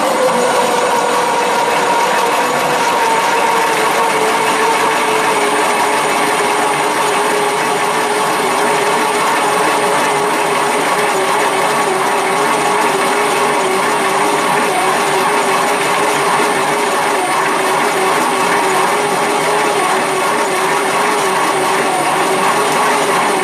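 A 20mm drill bit bores out an 11mm pilot hole, producing a loud, continuous machine whine with a steady pitch that holds for the whole stretch and no voices over it.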